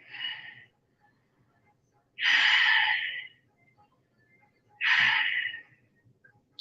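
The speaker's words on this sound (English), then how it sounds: "Take 3 breaths now." Three deep breaths taken during a stretching exercise: each is a long, breathy exhale lasting about a second, evenly spaced and close to the microphone, with quiet gaps between.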